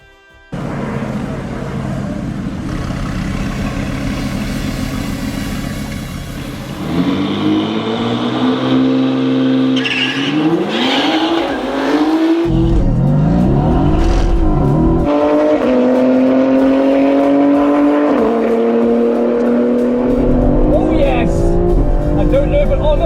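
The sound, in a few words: BMW X3M and supercar racing, accelerating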